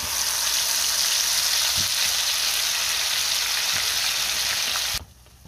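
Masala paste with cinnamon and bay leaf fries in hot oil over a medium flame, giving a loud, steady sizzle with a few soft stirring taps, until it cuts off abruptly near the end.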